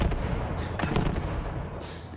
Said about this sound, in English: These things stick to the ground, and whenever I reload, they all detonate.